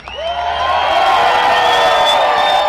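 A rally crowd at a Tax Day Tea Party in New York City cheers and whoops continuously, a dense, loud mass of voices that swells and holds steady without a break.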